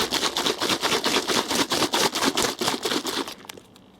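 Rapid rhythmic shaking of a spray bottle, a loud rattling swish repeated several times per second, stopping abruptly near the end.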